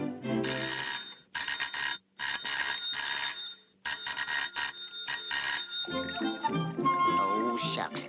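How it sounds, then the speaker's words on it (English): A bright doorbell rings in bursts in a 1941 Looney Tunes cartoon. Several repeated rings come in quick succession, each loud and clear, and cartoon sounds and voices follow near the end. "Every time I get in the tub, that darn bell rings."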